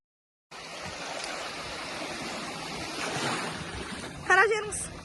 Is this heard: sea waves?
yes